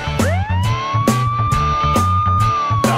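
A police car siren in a children's song wails in repeated rising tones over a bouncy musical backing, loud and up front.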